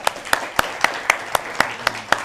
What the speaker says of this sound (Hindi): एक बार आप जोरदार तालियां बजाएं